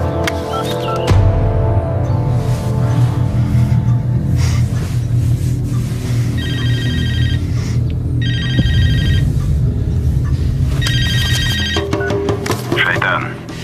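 Telephone in a 2014 Russian film rings in repeated electronic trilling bursts over a low, busy background, with other sounds and brief voices between the rings.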